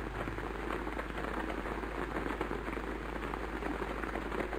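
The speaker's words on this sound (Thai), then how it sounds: "เสียงว่าฝนมันจะตกอีกหรือมันจะหยุด" Steady rain falls and patters on surfaces, a dense, even hiss of drops that runs through the whole stretch with no voices.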